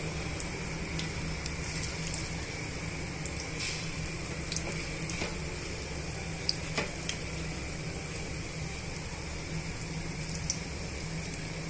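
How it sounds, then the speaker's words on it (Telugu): Punugulu fritters made from idli batter deep fry in hot oil with a steady, even sizzle that crackles and pops now and then, close up and with no talking. "ఇవన్నీ కూడా మళ్ళీ డీప్ ఫ్రై చేసేసుకున్నామండి"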